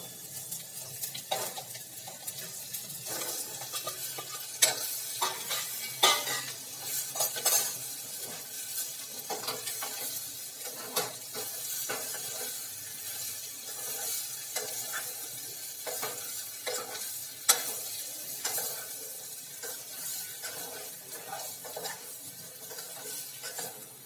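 Potatoes are stirred and fried in a pan for a fasting-day vegetable dish. A steady sizzle runs throughout, broken by frequent close clinks and scrapes of a spoon against the pan at an irregular pace.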